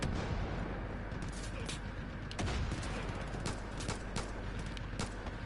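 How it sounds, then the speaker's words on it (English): Rapid turret gunfire in the Far Cry Arcade video game, with repeated sharp shots cracking over a dense, noisy background at moderate volume. "I figured that turret guy would get him eventually."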